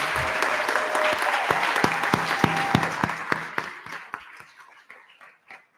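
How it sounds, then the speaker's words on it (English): A school board meeting audience gives a sustained round of applause for tenured candidates, dense clapping that holds steady before thinning and fading out. "How about a nice round of applause for all our tenured candidates?"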